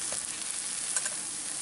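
A veggie omelette frying in a pan gives a faint, soft, steady sizzle that runs for a moment with no talking over it.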